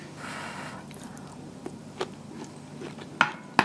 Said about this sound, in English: I'm just going to take a bite.